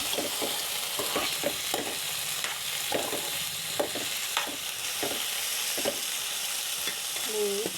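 Food fries in a pan with a constant soft sizzle, broken by irregular scraping stirs and utensil taps. It is close but fairly quiet, and a brief voice comes in near the end.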